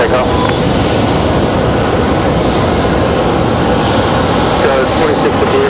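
An airplane takes off from runway 5 right at Raleigh Durham airport, a loud, continuous engine roar that stays close and steady throughout while a voice talks over it.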